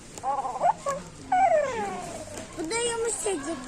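High whimpering, yelping sounds from a toy dog in short squeaky bursts with rising and falling pitch, close by and fairly quiet.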